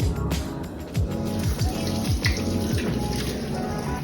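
Tap water running steadily during handwashing, a continuous close splashing stream with trickling and low knocking underneath.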